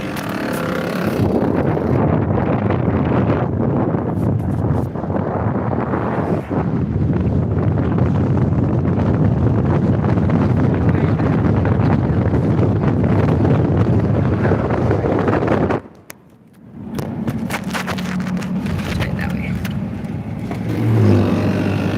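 A car drives along a road past red rock country in Peru, New Mexico, with steady, loud road and engine rumble and heavy wind buffeting the microphone, dropping briefly near the end before resuming.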